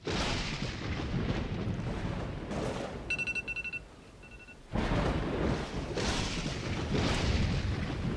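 Thunder rolling during a storm in the prehistoric settlement game Dawn of Man, long deep rumbling waves that fade briefly into a quieter stretch with faint tonal game chimes, then surge back loud and sustained.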